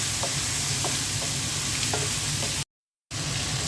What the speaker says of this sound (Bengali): বেগুন আর আলু মশলা দিয়ে মেখে নিয়েছি, দিয়ে দিচ্ছি। এটাও ভেজে নেব।